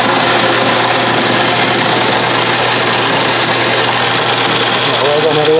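A Craftsman Atlas 12-inch lathe's rebuilt quick change gearbox runs noisily, a loud continuous gear clatter and mechanical whine that rises toward the end.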